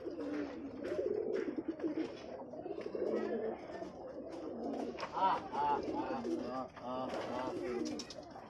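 Giribaz pigeons from Rajshahi coo while pecking at grain, a soft, continuous stream of overlapping low coos with faint muffled voices in the background.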